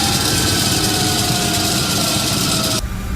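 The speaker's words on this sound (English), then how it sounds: "Boy, that engine doesn't sound right." A CRJ-200 regional jet's engine running in the X-Plane 11 flight simulator gives a loud, steady droning roar with a faint whine, dropping away abruptly at the very end.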